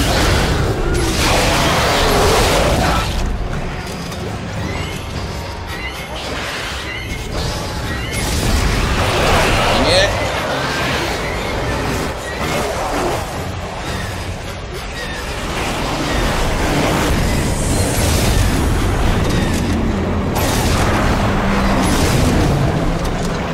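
Repeated heavy booms and crashing blasts from an exploding enemy in Dark Souls 2, rolling in loud waves over background game noise and whooshes, with no talk.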